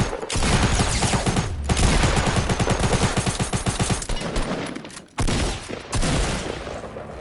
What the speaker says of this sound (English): What the hell kind of gun is that?